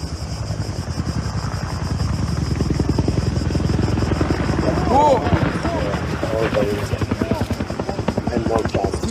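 A helicopter flies in wildfire-fighting footage from Greece, a steady loud rotor thrum with a continuous engine whine that rises slightly midway, close and alone throughout.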